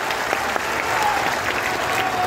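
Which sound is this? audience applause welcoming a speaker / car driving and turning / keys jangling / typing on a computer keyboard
audience applause welcoming a speaker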